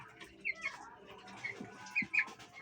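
Faint chickens, some with colds, cluck and chirp softly in short scattered calls, a few birds at a distance over a quiet background.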